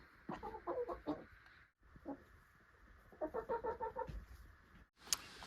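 Brooding hen sitting on a clutch of eggs gives low, rhythmic clucks in short bursts, close and fairly soft, with a pause between the two groups and no talk.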